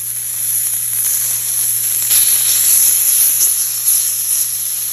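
Homemade English-style back bacon just laid in the pan, a steady close hiss of sizzling that swells slightly midway, with a constant electrical hum beneath.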